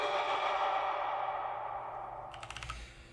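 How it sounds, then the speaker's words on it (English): A rising vocal riser built from layered group vocals for a Warframe ability, a dense breathy choral swell that holds and slowly fades, with a few brief clicking accents near the end, heard alone. "I have a vocal riser that I made out of the group vocal sounds"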